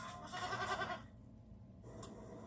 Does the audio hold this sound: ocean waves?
no